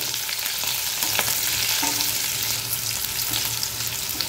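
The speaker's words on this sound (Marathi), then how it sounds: "तेल गरम झाले, आता फोडणीला या आपण हिरव्या मिरच्या घालूया आणि थोडी कढीपत्त्याची पानं" Green chillies and curry leaves fry in hot oil, a dense, continuous close-up sizzle with faint stirring scrapes and no voices.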